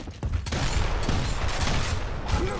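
Shotgun fire in a 3v3 video game match on the Gridlock map, heard as a dense, continuous wash of blasts and clatter under a busy battle mix, with sharp bursts near the start.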